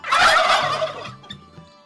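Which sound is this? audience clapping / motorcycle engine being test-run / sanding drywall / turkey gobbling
turkey gobbling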